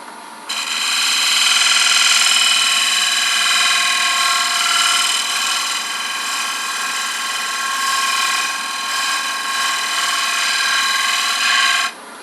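A small gouge makes a fine finishing cut on a wooden paten spinning on a lathe, a steady close-up scraping hiss with strong high overtones that holds for about eleven seconds, then stops abruptly.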